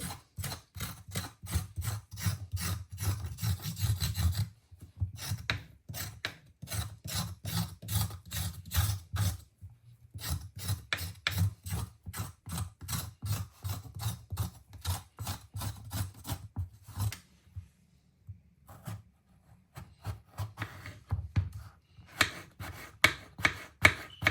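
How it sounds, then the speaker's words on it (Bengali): Vegetables are sliced with a knife in a fast, steady rhythm of close, crisp chops that runs in long bursts broken by short pauses, with no talking. "সবজি কাটতে ভালোই লাগে তাই না আমার কাছে ভালোই লাগে সবজি কাটাকাটি করতে"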